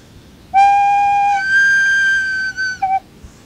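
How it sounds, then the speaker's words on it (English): A penny whistle is overblown so its note leaps up an octave, holding a bright, steady tone for about two seconds before dropping back briefly to the lower pitch; loud, close and solo. "As you overblow the penny whistle, the pitch apparently jumps an octave, goes the same note but an octave higher."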